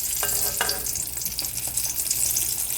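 Pumpkin fritters frying in oil, a steady close sizzle with a couple of sharp spattering pops early on, no voices.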